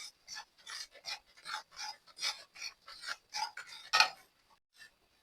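Amaranth seeds are dry-roasted in a pan over low gas, a dry rhythmic scraping and rustling of stirring, about a dozen short strokes close by with one sharper scrape near the end.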